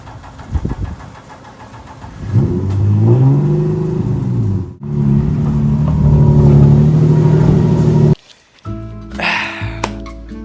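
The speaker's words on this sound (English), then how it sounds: "let me try starting the car so you don't have to push it all the way up" A cheap, slow BMW car engine cranks and catches, then revs in long rising and falling sweeps, cuts out abruptly, and restarts with a rough, sputtering idle; loud and close with no voices.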